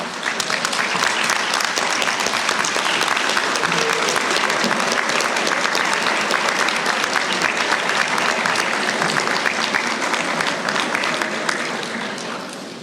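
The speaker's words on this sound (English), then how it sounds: "Get up and give them a round of applause." A large graduation audience at a university conferring ceremony gives a sustained, even round of applause, dense and continuous for over twelve seconds before starting to taper at the end.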